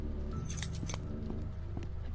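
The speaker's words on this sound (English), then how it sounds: "it sounded like I picked up keys" Keys being picked up in the Roblox Doors video game played in VR, a few bright metallic clinks and jingles over a steady low game hum, close and fairly clear.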